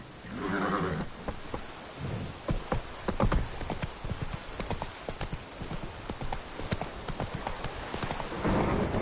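Hooves of a horse in The Witcher 3 pound in a steady, close gallop, with a brief whinny at the start and faint rain pattering underneath throughout.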